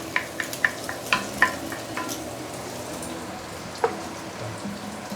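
Garlic hits a hot pan while cooking seafood chow mein, giving a steady soft sizzle broken by a few sharp crackles and pops. The pops cluster early and one more comes near four seconds. No one speaks.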